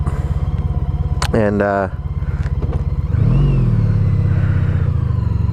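A motorcycle engine hums steadily up close while riding after winter, then revs higher as it accelerates, with a brief voice speaking over it.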